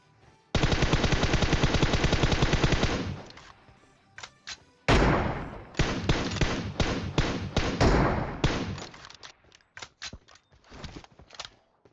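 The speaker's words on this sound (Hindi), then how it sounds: "भाई अभी भी गोलियां पेल रहे हैं, और गोली हम पे ही आ रही है" Close, loud automatic gunfire in the PUBG Mobile battle royale game, a long sustained burst followed by choppier volleys and scattered single shots and thumps, with quieter distant fire between bursts.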